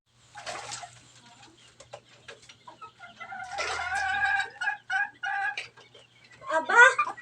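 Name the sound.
chicken clucking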